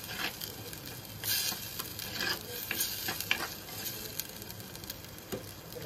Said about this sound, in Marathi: छान असा मसाला भाजून घ्यायचा आहे।